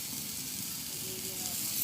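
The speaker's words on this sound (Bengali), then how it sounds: "আর একটু তেল দিয়ে দিই।" Onion sizzles in hot oil in a pan during village-style Bengali cooking of a bottle gourd dish, a steady close hiss and crackle throughout.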